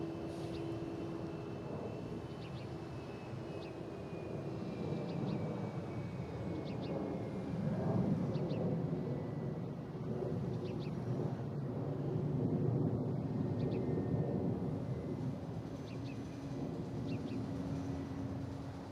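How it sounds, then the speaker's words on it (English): A JetBlue jet airliner taking off at Boston Logan International Airport roars with a broad, steady engine rumble that swells and ebbs over nearly twenty seconds, heard from a distance under light wind noise. "We just had a JetBlue takeoff heading to Orlando"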